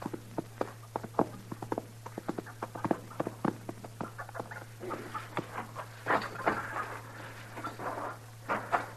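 Hooves clop in a quick, uneven rhythm on hard ground, close by, with a steady low hum underneath.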